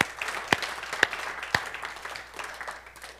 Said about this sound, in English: I'm going to clap right there.